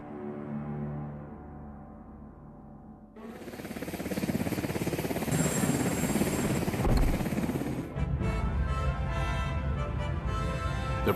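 Marine One, the presidential helicopter, spools up and lifts off. Rotor noise jumps from a low idle to a loud, rapid, pulsing thrum with a whine of turbines above it.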